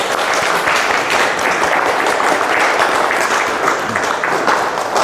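A crowd claps steadily for a student who passed first-year intermediate exams, dense loud applause held throughout without pause.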